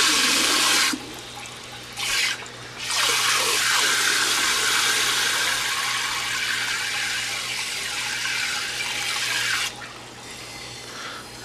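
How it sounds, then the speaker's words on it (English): Water gushing into an aquaponics barrel through a siphon setup, a loud continuous rushing pour that briefly drops out twice and then resumes, with a steady low hum underneath. "there's a lot of water coming in here at once"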